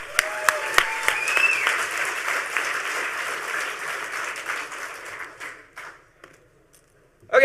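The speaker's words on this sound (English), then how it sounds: "Huge round of applause this time." An audience at a hacker conference talk applauds, starting with a few sharp, distinct claps, then swelling into a long, dense round that fades out to near silence, followed by a loud thump at the very end.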